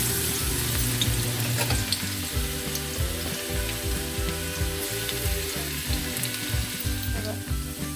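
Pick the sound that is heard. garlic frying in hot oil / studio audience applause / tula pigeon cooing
garlic frying in hot oil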